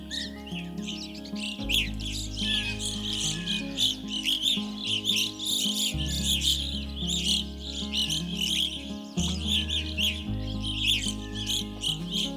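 Dense, overlapping burry calls from a large flock of evening grosbeaks, mixed with other finches, fill a forest steadily throughout, with a low sustained drone underneath.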